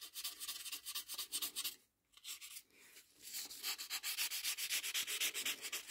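Fine 1200-grit sandpaper rubs over hardened Milliput filler on a porcelain repair in quick back-and-forth strokes, close and crisp, pausing briefly midway before the rhythmic scratching resumes.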